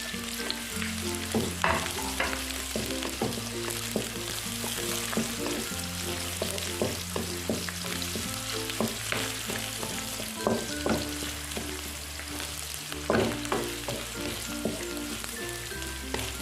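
Bay leaves, bruised lemongrass and shrimp paste sautéing in a pan for a vegetable stew, with a loud, continuous sizzle broken by repeated scraping and stirring knocks. No one speaks, and a low musical tone runs underneath.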